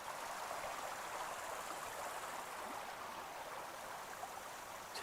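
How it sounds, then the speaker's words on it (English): A stream runs beside a French farmhouse in Euro Truck Simulator, a soft, even rush of flowing water heard alone at low volume without a break. "Just the sound of the water as well"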